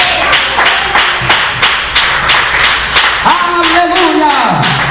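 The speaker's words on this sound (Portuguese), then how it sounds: "Pode bater as palmas com glória a Deus." A church congregation claps along during a Portuguese-language worship service, a steady run of hand claps mixed with voices, ending in a rising sung or shouted note over the crowd.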